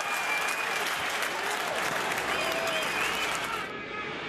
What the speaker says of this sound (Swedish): Och snacka om jubel här nu på Malmö stadion.